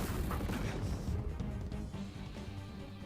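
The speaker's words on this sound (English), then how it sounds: "Keep firing that shotgun, boy." A shotgun fires in an anime episode, booming blasts layered with dense low rumble and battle noise that stays loud and continuous throughout.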